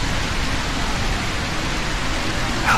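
Steady rain in a horror video game, a dense, even hiss of falling water that fills the whole moment at constant loudness, with no talk over it.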